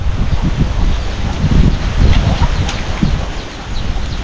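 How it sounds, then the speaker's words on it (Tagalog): Gusty outdoor wind buffets the microphone during a fishing outing, a loud continuous low roar that swells and eases in waves, with faint rustling over the top. "Mahangin, parang papadpad pa to ah."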